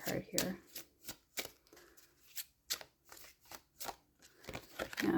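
Tarot cards are shuffled close by in quick rhythmic riffles, about a dozen sharp card flicks, while someone talks quietly alongside.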